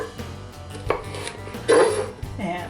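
A knife slices zucchini on a cutting board, giving a few close, crisp cuts and scrapes, one louder chop near the middle, with a low hum underneath.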